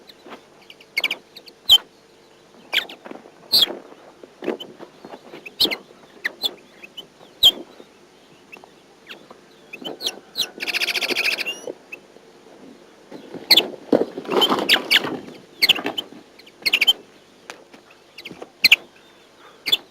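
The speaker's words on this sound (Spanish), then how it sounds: "Inmediatamente inician sus insistentes trinos que no son más que una invitación a los de su especie para que acudan a aquel lugar" Decoy finches perched in cages at dawn give rapid, insistent trills and chirps, repeated bursts close by with brief pauses, and a couple of longer buzzing phrases in the middle.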